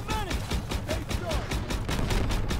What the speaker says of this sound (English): This is a very magical 37mm cannon